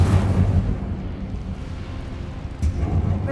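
A fire spell cast in the Hogwarts Legacy video game bursts out loudly in a low, rumbling whoosh, fades into a sustained roar, then flares again with a second sharp burst near the end.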